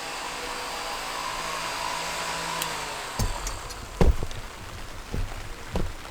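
Two small solar-powered oscillating fans run in a warm enclosed growing space, giving a steady soft whir through the first half, then a few sharp knocks and clicks break in near the end.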